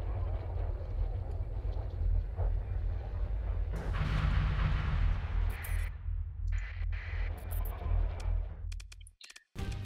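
Weapons fire between battleships and cruisers and a space station in Starsector: a heavy, rumbling barrage of booms and blasts that rolls on continuously, with sharper crackling bursts toward the end and a brief drop-out.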